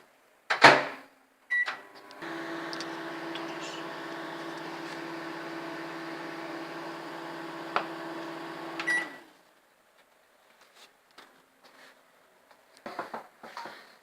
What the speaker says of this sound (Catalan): ho posem dins el microones.